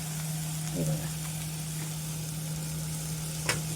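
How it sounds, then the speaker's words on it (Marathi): Cooked kurdu wild monsoon vegetable keeps sizzling in the pan as grated coconut goes in and is mixed, a constant close frying hiss with a steady hum and a couple of brief scraping stirs. "खोबरं टाकूया आपण खोबरं टाकून आपण अशी मिक्स करूया"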